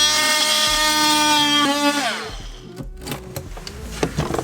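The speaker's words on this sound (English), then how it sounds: "I'm just gonna have to screw through the box" A power driver spins a screw through an electrical outlet box, starting as a loud whining tone that slows and drops in pitch before cutting out, followed by a few scattered clicks and taps.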